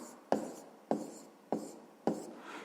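Pen strokes on paper while a math solution is written out, four distinct scratchy bursts in a steady rhythm, close and clear with no talk.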